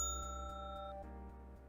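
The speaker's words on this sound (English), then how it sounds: "That bell rings." A bell chime in the RPG Maker horror game Revenant in the Paradise rings out as a bright, sustained tone that decays slowly, layered over a steady low game music drone with a faint rhythmic pulse.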